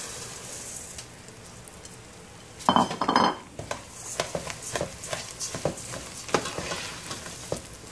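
Raw rice is tipped into hot oil, and a quiet hiss suddenly bursts into a loud, close crackling sizzle. Spoon scrapes and stirring clinks follow as the sizzle settles to a steady fry.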